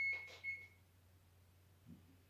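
A short electronic oven timer beep sounds once near the start, fairly faint, followed by a quiet room with a low hum.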